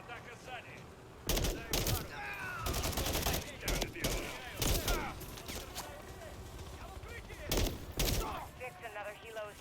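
Gunfire in Call of Duty Modern Warfare III, bursts of rapid automatic shots and loud volleys in several clusters, with game voices speaking between and over the shooting.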